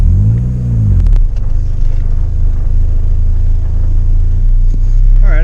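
A vehicle drives back up over loose fill dirt on a bunkhouse building site, a loud close engine rumble with low revving that holds steady throughout, with a few sharp knocks and clunks.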